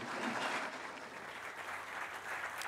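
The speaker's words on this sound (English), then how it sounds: "Another round of applause for all the family members up here." Fairly faint, steady applause from the audience at the 2023 Hobey Baker Memorial Award announcement, honoring family members on stage; continuous clapping without pause, somewhat distant.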